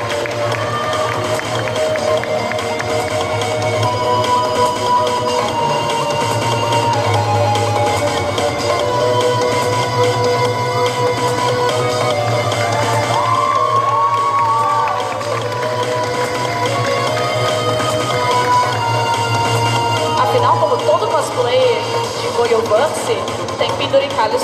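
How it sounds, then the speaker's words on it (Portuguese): Crowd at a cosplay parade during a Sunday costume show at a Brazilian anime convention, clapping and cheering under a loud announcer on the PA, with a continuous low hum and the crowd noise swelling and dipping throughout. "Palmas!"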